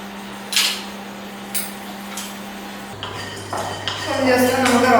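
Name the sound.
cashew nuts added to pan for roasting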